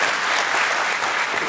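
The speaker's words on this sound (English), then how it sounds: "A big round of applause." A brief, full burst of audience applause at an India IPO celebration, dense and even throughout with no voices over it.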